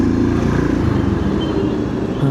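Dense road traffic in Salem, a continuous loud low rumble of engines and tyres close by, with no talk.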